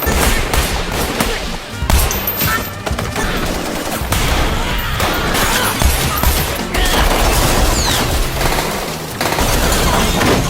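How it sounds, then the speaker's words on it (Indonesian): Hundreds of bullets fired in an action film about the gunman Jigen Daisuke, a dense, loud, continuous fusillade of rapid gunshots with crashes and booms packed throughout. "Ratusan peluru menghujaninya, tapi cuma membuat mereka mengantar nyawa."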